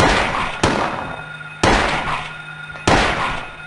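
Three loud, sharp gunshots spaced about a second apart, each with a short decaying tail, fired in the PS1 survival horror game Silent Hill, with no talking over them.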